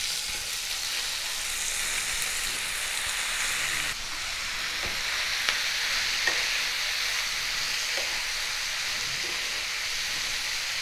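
Shredded cabbage hits hot ghee and white oil in a pan for a Bengali korai paturi, bursting into a loud continuous sizzle and hiss, with occasional scraping clicks of stirring over the steady frying.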